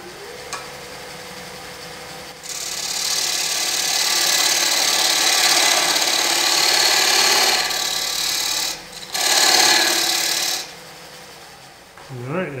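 Turning tool cutting a wooden bowl's tenon on a lathe: a close, continuous hissing scrape that swells over a few seconds, dips briefly, returns, then drops away, under a steady motor hum.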